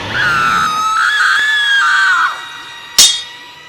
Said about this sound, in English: This Pokemon, the source of the screams, is radiating a negative energy.